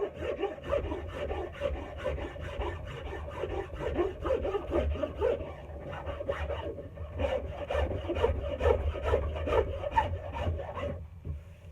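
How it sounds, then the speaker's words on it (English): A rasp is worked back and forth over a wooden tool handle to smooth it, making a continuous close scraping rub with rhythmic strokes throughout. "I'm also going to take my rasp and rasp it nice and smooth."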